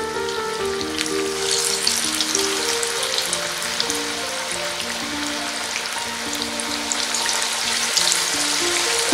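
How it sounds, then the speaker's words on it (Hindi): Marinated spicy fish deep-fries in hot oil with a loud, steady, crackling sizzle that runs without a break, with faint tonal sounds in the background. "अब हम इसे डीप फ्राई करेंगे"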